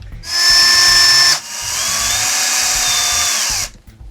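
A power driver whirs in two close, loud bursts, a short high one and then a longer one, while tightening a long set screw on a Tamiya M06 Pro RC car during assembly.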